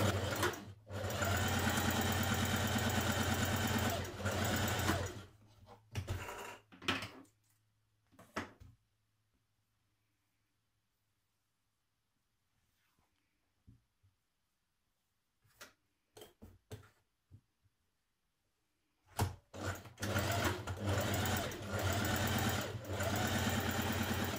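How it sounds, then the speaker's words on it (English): Domestic sewing machine stay stitching the back neck edge of a blouse, running in two loud steady bursts at the start and end, with quiet handling clicks and pauses between. "Stay stitch your back neck edge"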